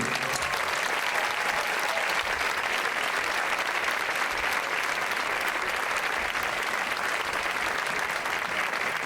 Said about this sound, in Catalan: Per favor, un fort aplaudiment.